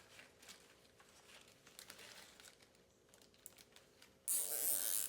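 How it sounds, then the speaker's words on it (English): Plastic bag crinkling and rustling as it is wrapped around an engine sensor on a 1994 Mercedes C280 W202 with the M104 engine, soft intermittent crackles close by, ending in a louder burst of crinkling. "So I'm going to wrap it in a plastic bag"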